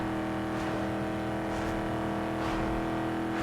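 A Cadillac Escalade 6.0L V8 roars through a drag race in Need for Speed Underground 2, its engine holding a loud, sustained high-rev drone with steady harmonic whine and slight surges across the run.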